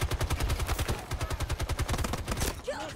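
Rapid automatic gunfire in Call of Duty, a fast, evenly spaced stream of loud shots that stops abruptly near the end.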